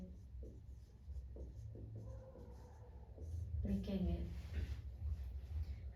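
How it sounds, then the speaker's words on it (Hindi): Chalk scratches across a blackboard in short, quiet strokes and taps as a teacher writes a geography lesson, with a voice speaking at times over the writing. "यहाँ पर यहीं पर लिख देते हैं हम"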